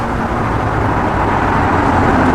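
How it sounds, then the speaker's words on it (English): A modified Lamborghini Aventador downshifts while slowing on the road, its engine a loud, steady roar filling the whole clip with no pause or talk. "And then when you downshift and you're slowing down."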